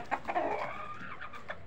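A Gavrani country hen clucks in a few short, quiet calls, fairly close and alone.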